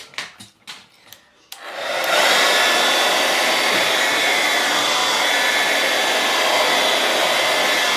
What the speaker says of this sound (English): let's give this a blast with the hairdryer